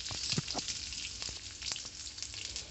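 Garlic, mustard seeds and cumin frying in oil for a brinjal chutney, a soft, quiet sizzle with scattered crackles and spoon-stirring scrapes, no voices.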